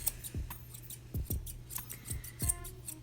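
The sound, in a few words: chunking shears trimming a small Yorkie's fur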